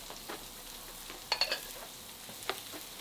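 Salmon fried rice with green onions being stirred in a pan, giving a soft background sizzle with a few brief scraping clicks clustered near the middle and another near the end.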